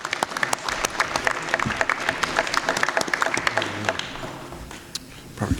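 A crowd at a county board of supervisors meeting in a high school applauds with dense, steady clapping that tapers off toward the end.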